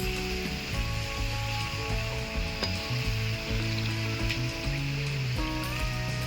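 Jalebi frying in hot oil, a loud, dense and steady crackling sizzle heard close up, with faint tonal hum in the background and no speech.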